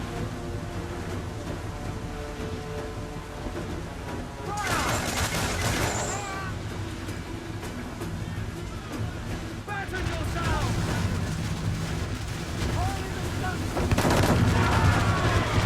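Ship cannons booming in Assassin's Creed IV naval combat, heavy rumbling volleys swelling in bursts over constant sea and battle noise, with voices talking throughout.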